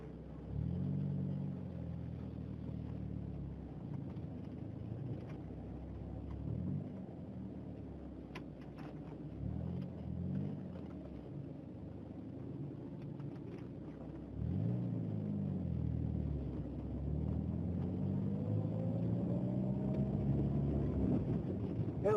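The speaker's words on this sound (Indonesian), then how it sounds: "Kita mau coba test drive mobil ini, gimana kenyamanannya sama gimana sih tenaganya untuk mobil tua" Heard from inside a 1983 Toyota Corolla DX KE70 on a test drive, a low engine rumble rises and falls through repeated gear changes, with road and wind noise in the cabin.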